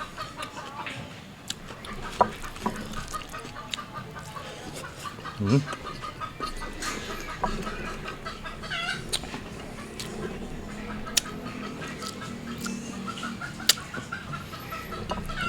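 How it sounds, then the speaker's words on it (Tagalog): Chickens cluck nearby amid background chatter and clatter, with occasional sharper squawks standing out over the steady noise. "Sali daw ulit yung manok ko eh."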